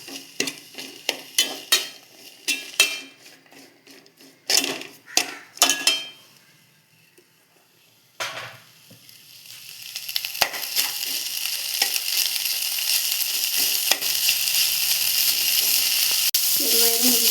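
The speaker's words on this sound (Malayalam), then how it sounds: "ചെറുപയറും മുരിങ്ങയിലും കൂടി ഒന്നിച്ച് അത് യോജിക്കാൻ വേണ്ടി 2-3 മിനിറ്റ് നേരം നമുക്ക് ഇളക്കി എടുക്കാം" Cooked green gram and drumstick leaves stirred in a pan: a run of sharp clinks and scrapes of a spoon against the pan, a pause, then a steady rising sizzle with occasional stirring strokes.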